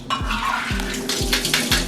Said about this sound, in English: And I'm going to pour my soaked beans